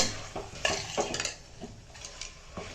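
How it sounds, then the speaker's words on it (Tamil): Vegetables being sautéed in a pan for vegetable rice: a faint sizzle with soft scrapes and clinks of a utensil against the pan at an uneven pace. "குத்தி நல்லா வதக்கின்ட்டு போதும் வதங்கினது போதும்"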